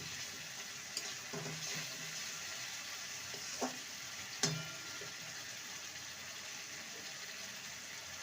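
Cabbage sautéing with spices in a pan gives a soft, steady sizzle at low level, broken by a few light scrapes and taps of a stirring spatula, with no talking.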